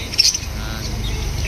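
Parakeets in a pet shop give a sharp squawk followed by scattered chirps and a steady busy background murmur, moderately loud and close.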